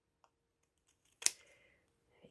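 Scissors trimming around the edge of die-cut cardstock for a spinning heart card: one close, sharp snip stands out, preceded by faint small taps and followed by a brief rustle of paper.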